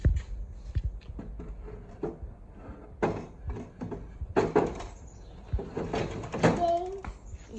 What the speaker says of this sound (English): First drawer in.